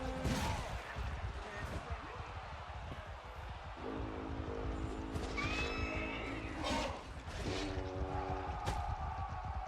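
Horses whinny in a couple of shrill bursts over a busy, continuous soundscape of rumbling, clattering action in the video game Voor de Kroon.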